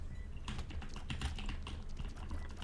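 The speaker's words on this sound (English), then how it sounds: "this is actually a Keychron C3, I think. So it's a pretty nice keyboard." Keys clatter steadily on a full-size Keychron C3 mechanical keyboard with swappable switches, a quick run of close, clicky strokes over a low background hum, with no one talking.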